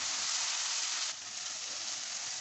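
Garlic and ginger frying with onions in a pan for beef kofta curry: a faint, steady sizzle with an unbroken hiss that dips slightly midway and carries no speech.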